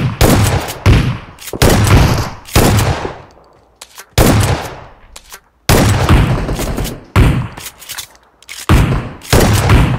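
Loud, rapid bursts of shotgun gunfire from the mobile battle-royale game PUBG Mobile, several sharp blasts in quick clusters separated by brief gaps, close and dominant with no talk over them.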